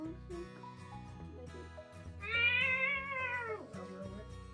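A cat meows once, a clear drawn-out mid-pitched meow lasting over a second, heard over steady background music in a home.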